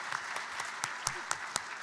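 Scattered applause from a small convention panel audience at PAX East 2019, with a few sharper individual claps standing out in a steady patter.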